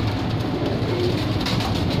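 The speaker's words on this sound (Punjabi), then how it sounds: "ਸਾਰੇ ਤੰਦਰੁਸਤ ਔਰ ਸਿਹਤਮੰਦ ਕਬੂਤਰ ਨੇ" Several healthy female pigeons coo steadily close by, a low continuous burbling with no talking over it.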